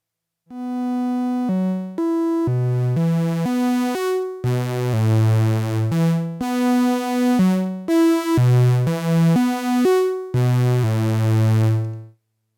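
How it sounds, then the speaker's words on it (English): Three synthesizer sequences run in unison on tracks 1, 2 and 3 of a USTA sequencer, a stepping pattern of bright sustained notes with distinct changes, clean and close with no talking. "right now I have 3 sequences playing in unison on tracks 1, 2, and 3 on the USTA sequencer"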